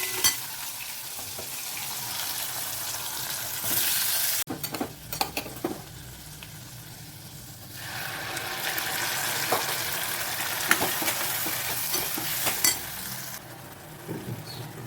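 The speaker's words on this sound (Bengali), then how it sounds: "একটু আলু দিয়ে ভাজা হোক আলুটা" Potato pieces fry and are stirred in a pan of spiced oil with cumin seeds and asafoetida, a steady close sizzle with scraping and clinking of the spoon against the pan, briefly interrupted midway.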